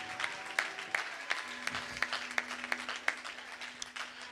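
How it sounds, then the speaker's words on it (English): Church congregation claps in praise, with sharp rhythmic hand claps in a steady beat and a held tone underneath, moderately distant. "Let's give the Lord a hand clap of praise."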